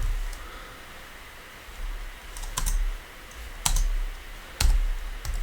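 Bursts of keystrokes clatter on a computer keyboard while code is typed, short clicky clusters arriving every second or so over a quiet background hiss, close and fairly loud.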